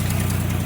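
A 1982 AMC Concord engine, running rough with no power after ignition and exhaust manifold work, rumbles steadily through a loud exhaust, a close, heavy, pulsing low drone with no talking.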